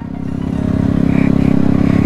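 A motorcycle being ridden backwards, its engine running at a steady, pulsing idle-to-low rev close by, with a faint rattle and no voices.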